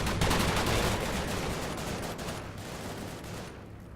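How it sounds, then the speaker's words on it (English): Dense, continuous machine-gun fire from tanks in the Combat Mission: Battle for Normandy war game, a loud steady crackle of overlapping bursts that holds for four seconds and fades slightly toward the end. "2 of them using machine guns."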